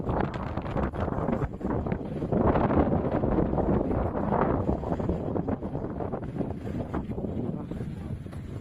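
Steady wind roars and buffets across the microphone at a roadside view deck on the Gumaca bypass road, Philippines, a continuous rushing noise with no pauses.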